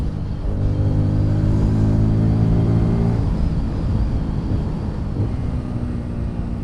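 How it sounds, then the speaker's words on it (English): A Bajaj Pulsar N250 250 cc motorcycle accelerates in fifth gear on a test ride, its engine note a loud, steady rising drone with strong harmonics for about three seconds before easing into broadband road and wind rumble. "even in the 5th gear, see, if I pull the throttle,"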